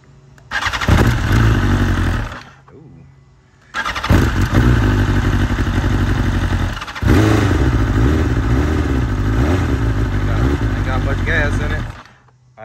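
A 2020 BMW S1000RR sportbike fires up, with a short cranking burst, then a loud, close engine note that cuts out briefly before catching again and idling roughly with blips of revving.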